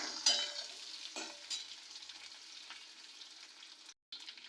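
Potatoes fry in hot oil tempered with mustard seeds, cumin, ginger, green chillies and curry leaves, giving a soft, steady sizzle with occasional scraping stirs in the pan, heard close up and quiet, without voices.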